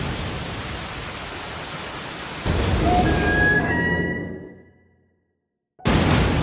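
Heavy storm rain on the deck of a cruise ship in the 2019 animated film Weathering With You makes a dense, loud broadband hiss, with faint rising whistle tones layered in. It cuts to near silence, then the downpour abruptly returns.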